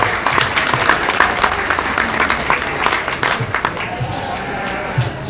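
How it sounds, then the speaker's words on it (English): A crowd at a county fair sheep show applauds the young exhibitors, a close, lively run of clapping with sharp individual claps standing out and some talk and murmuring mixed underneath. "So let's give all these kids a round of applause"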